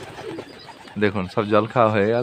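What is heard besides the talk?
pigeons cooing while drinking water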